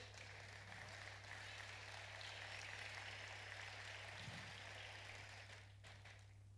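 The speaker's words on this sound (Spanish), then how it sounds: "Un aplauso para Él, hermano." A church congregation breaks into sustained applause, a dense, even wash of clapping that holds steady across the room, with a low mains hum running underneath throughout.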